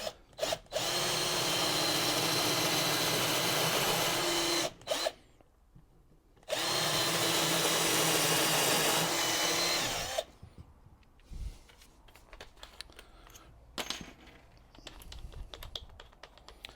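Power drill boring pilot holes for screws into wood for a pizza oven table, two long loud steady runs separated by a short pause, then quieter clicks and handling noises, no voices.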